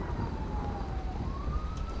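A police car siren in the FiveM GTA V game sweeps past with a steady wailing tone that slides gradually over a rumbling background, moderately loud and unaccompanied by speech.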